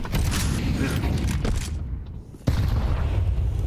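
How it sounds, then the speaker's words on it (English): A grenade explosion lands in an IEM Cologne Major 2026 esports match between BIG and B8 as a sudden loud blast near the end. Dense, rumbling in-game noise surrounds it, with possible commentary underneath. "Oh, that grenade is massive."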